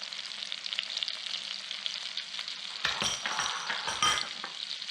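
Garlic and shallot sautéing in melted fat in a pan, a bright, even sizzle close by, with a couple of louder bursts of stirring or clinks toward the end and no voices.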